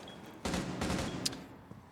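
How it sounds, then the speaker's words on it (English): Gunfire in the tactical shooter Rainbow Six Siege during a pro league match, a short burst of rapid shots with sharp cracks, close and fairly loud, no talk. "Necro taking gunfire here on Attic"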